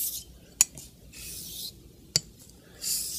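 A straight razor honed on a whetstone while setting a bevel, soft gritty rubbing strokes with two sharp clicks between them, close and quiet, no talking.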